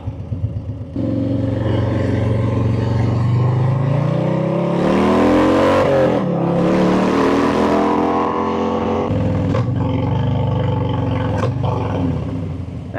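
Motorcycle engine while riding on the road, a steady loud roar with rising revs and gear changes over about thirteen seconds, close to the rider, with wind noise and no talking.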